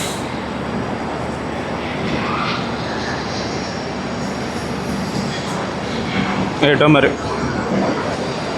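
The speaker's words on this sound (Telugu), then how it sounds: "ప్లాట్ఫామ్ నెంబర్ 2 మీదకి అయితే ఒక ట్రైన్ అయితే తీసుకొచ్చారు ఇప్పుడే" Train arriving at platform 2 of Tirupati railway station, marked Charlapalli–Kakinada Town, a steady broad rumble that runs throughout with a brief louder burst near the end, and a voice speaking briefly over it.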